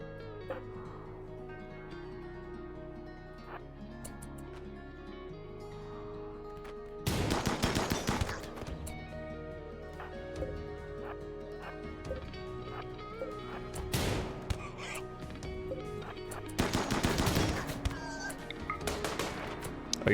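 Gunfire in the colony-building game RimWorld: several clustered bursts of sharp shots break out over a steady background music bed, loud against otherwise quiet stretches.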